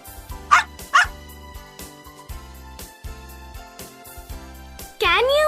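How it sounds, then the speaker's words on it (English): A dog barks twice in sharp, loud bursts over a steady background music bed, followed by a longer whining, yelping call near the end. "Dog."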